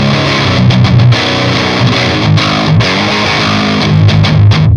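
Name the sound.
distorted electric guitar playing sludgy classic metal tone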